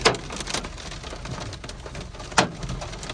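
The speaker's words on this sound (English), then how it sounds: "Bunch of hail." Hail pelting a car driving through a storm on the road to Alaska, a dense steady patter of hard impacts with a few louder hits standing out.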